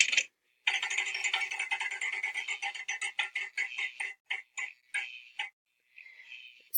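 A spinning prompt wheel on the Scholastic Story Starters website ticks rapidly, then slows into spaced clicks before stopping, crisp and close with no voices.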